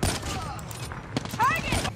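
Quick bursts of automatic gunfire from a COD Mobile match, crackling mid-level amid game sound effects, with a player's voice talking over the shots.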